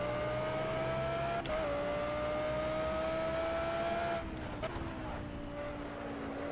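Rear-engined Audi race car in a sim racing game at Brands Hatch, a steady droning engine note with gear shifts and a dip in revs, continuous and moderately loud.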